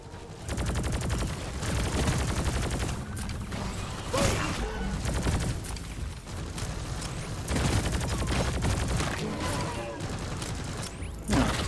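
SMG and turret gunfire in a video game, rapid continuous bursts of automatic fire with mechanical clatter layered on top, steady and close throughout.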